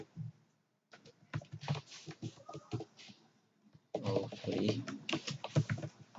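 Computer keyboard keys tapped while typing code for an if-else statement, a run of quick clicks under a voice speaking Hindi, growing busier and louder in the second half.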